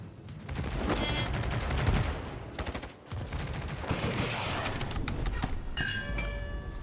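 Naval ship guns fire in a video game battle, dense overlapping booms and crackling bursts continuing throughout, loud and busy with a brief dip midway and a tonal ringing near the end.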